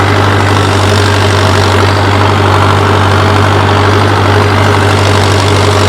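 A tractor engine runs with a cultivator attached in a farm field, a loud, steady low rumble with a constant hum throughout, close by and unbroken, no talk.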